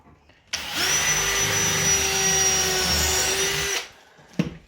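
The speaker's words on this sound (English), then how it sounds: "Now we can pre-drill the rest of these and get the screws in all in one hit." A combi drill pre-drilling screw holes in wood whirs steadily for about three seconds, a loud continuous motor whine that starts and stops abruptly, followed by a brief clunk.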